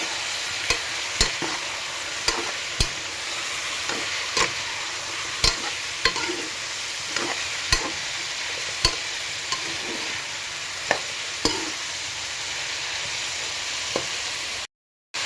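Mushrooms fry and sizzle in a pan for biryani, stirred steadily with a spoon that taps the pan about a dozen times at roughly one-second intervals, close and clear over a constant hiss, with no talking.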